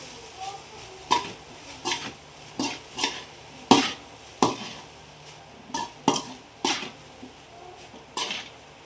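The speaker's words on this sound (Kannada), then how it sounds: "ಇವಾಗ ಚೆನ್ನಾಗಿ ಮಿಕ್ಸ್ ಮಾಡ್ಕೊಳ್ಳೋಣ." Egg rice being stirred and mixed in a pan, a string of sharp spoon-on-metal scrapes and knocks at an irregular rhythm over a faint background sizzle, close and fairly quiet.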